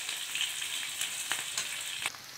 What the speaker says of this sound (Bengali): মরিচ দিচ্ছি, আমি দিয়ে এখন ভালো করে পেঁয়াজটা মশলা বাজিয়ে নেব।